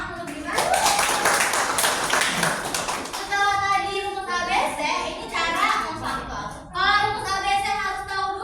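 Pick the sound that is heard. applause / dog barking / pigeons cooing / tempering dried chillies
applause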